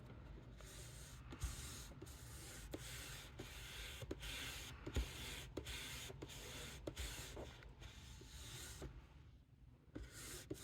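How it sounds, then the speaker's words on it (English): Old rubber stamps being rubbed and scrubbed in dirty cleaning fluid over wood, a steady close wet scrubbing with rhythmic strokes and small knocks running throughout. "I might be making this more grimy than it was to begin with by rubbing it into this dirty fluid"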